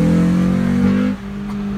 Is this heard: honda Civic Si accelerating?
yes